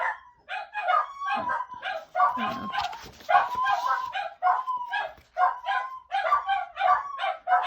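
Several dogs bark in a home, with repeated sharp yaps and bow-wows in quick bursts, close and fairly loud, mixed with some whimpering while a person briefly speaks.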